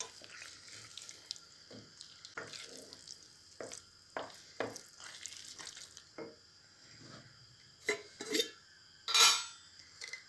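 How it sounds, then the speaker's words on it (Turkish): Tomato paste and garlic fry in a pan while a utensil stirs and scrapes, giving irregular clinks and taps over a soft sizzle, with a sharper clatter near the end. "Şöyle güzel salçamızı sarımsağımızla birlikte bir 5-6 dakika bu şekil karıştırarak kavuracağım."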